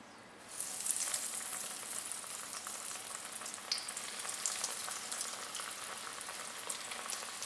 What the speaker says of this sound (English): I will reduce my fire to a medium high and then slowly drop in the cutlets.